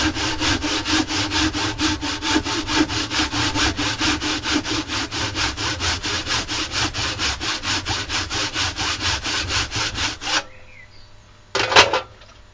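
Hand saw cutting through wood, loud and close in steady rhythmic back-and-forth strokes for about ten seconds, then stopping, followed by a short rasp and quiet.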